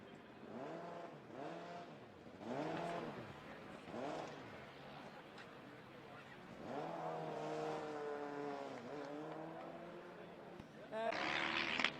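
Formula SAE race cars on an endurance circuit, engines revving up and down through repeated passes, rising whines and gear changes under continuous commentary.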